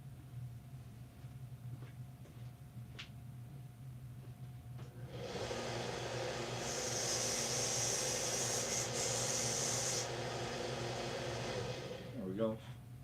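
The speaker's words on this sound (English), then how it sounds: "I just used the Yield Harbor Freight sander there" A Harbor Freight power sander grinds a pipe, starting after a quiet stretch and running as a steady, loud, close abrasive whir for about five seconds before stopping, followed by a brief voice.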